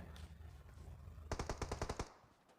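A rapid burst of about eight automatic gunshots rings out in PUBG Mobile, sharp and evenly spaced. A quieter stretch of game ambience comes before it.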